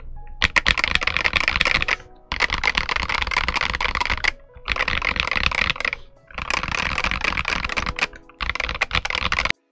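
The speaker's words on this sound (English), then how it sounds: "Keyboard's quite loud." Rapid, loud clacking of the keys on a Gamakay TK75 mechanical keyboard in four dense bursts separated by short pauses, close up with no talking.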